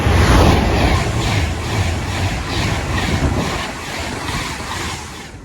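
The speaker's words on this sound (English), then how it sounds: "the freight train, by the looks of it, is passing through after my train" A freight train passes through a station in Cheshire, a steady rumbling roar with faint rhythmic wheel clatter, loud and close at first and easing slightly as it continues.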